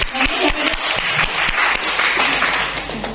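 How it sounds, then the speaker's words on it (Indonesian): Students and guests at a high school seminar in Yogyakarta break into applause, a close, lively burst of clapping with some sharp individual claps standing out, fairly loud and continuing throughout. "Tepuk tangan buat teman kita."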